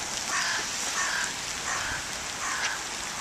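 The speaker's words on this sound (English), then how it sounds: "the rain coming down quite hard" Rain pours down hard outdoors on a dark evening, a dense, steady hiss filling the scene, with crows cawing at regular intervals through the downpour.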